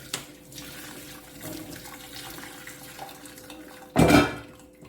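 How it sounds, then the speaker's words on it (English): Hot water gushes briefly from a sink tap over strained smoked herring near the end, following quiet kitchen clatter of dishes and utensils. "And we're going to rinse it with a little bit of hot water."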